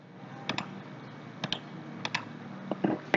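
Keys tapped on a computer keyboard in small clusters of two or three clicks, a few short bursts spread over a steady background hiss, with nobody talking.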